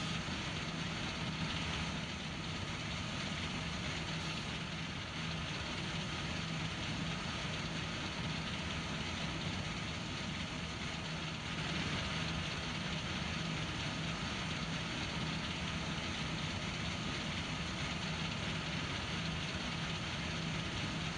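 A vehicle engine idles in the video game de Terra Italica, a steady, low mechanical hum that runs unchanged and fairly quietly for about twenty seconds with no voices.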